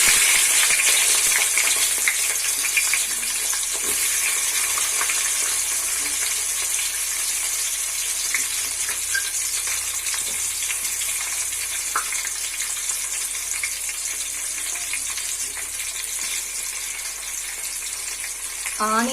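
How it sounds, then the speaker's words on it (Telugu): Onions frying in hot oil in a pan for pulao after cinnamon and cardamom, a dense, steady close sizzle running throughout with faint stirring scrapes underneath. "ఆనియన్ కొంచెం బ్రౌన్ కలర్లో వచ్చినంత వరకు ఫ్రై చేసుకోవాలి"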